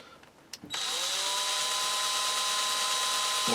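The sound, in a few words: drill drilling into an old trowel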